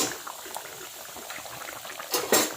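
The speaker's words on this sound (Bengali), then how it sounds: "আর এটা সর্ষের তেলে ভাজছি।" Poppy seed fritters made with rice flour bubble and crackle in mustard oil, a busy close frying sound with light utensil clinks and a louder burst near the end.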